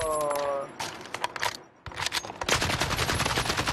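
Rapid bursts of machine gun fire in a video game rattle loudly, with a brief pause before heavier sustained firing returns, and a voice is faintly heard in between.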